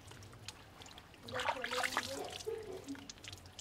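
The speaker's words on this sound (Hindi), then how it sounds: "पानी कैसे चल रहा है एकदम धीमा" Thin, slow stream of tap water in a home bathroom, faint at first, then swelling into a soft splashing trickle partway through before easing back to a quiet, steady run.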